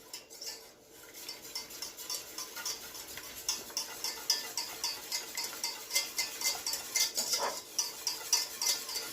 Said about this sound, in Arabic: نحركوه مزيان حتى يذوب لينا